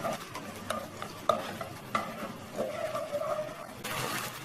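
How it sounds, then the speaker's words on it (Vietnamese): Ragu sauce with tomato paste is stir-fried in a pan, with a spoon scraping and clinking against the pan in an irregular rhythm over a soft sizzle, close and moderately loud. "mình xào cái sốt này cho nó thơm lên"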